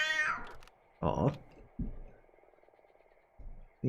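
Cat meowing in the Darkwood video game, a few short separate meows with quiet gaps between them over a low steady background hum.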